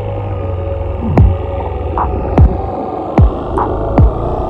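Three-wheeler engine running underwater: a low muffled throbbing hum under a constant drone, with four deep descending whoop-like pulses spaced about a second apart, no speech.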